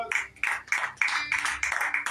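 A church congregation claps in a steady rhythmic beat during a Spanish-language sermon, each sharp burst of many hands landing about three times per second, close and fairly loud, with no talking over it.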